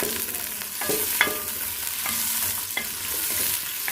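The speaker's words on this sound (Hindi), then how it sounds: "प्याज को हम अच्छी तरह से फ्राई कर लेंगे।" Chopped onions frying in hot ghee in a pan for aloo gosht, with a steady dense sizzle and occasional stirring clanks and scrapes throughout.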